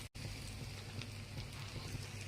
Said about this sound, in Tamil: நம்ம முட்டையை கலக்கி வச்ச முட்டையை இதில் ஊற்றிடலாம்